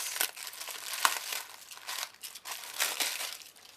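A package of lace trims being opened, with close crinkling and crumpling of plastic wrapping in short irregular bursts, fairly quiet and with no talk.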